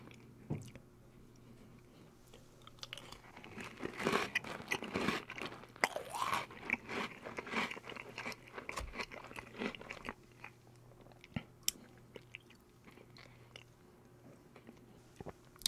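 Oreo cookies being eaten up close, with crisp crunches and wet chewing that come in bursts and then fade to softer, sparser chews, with no talking.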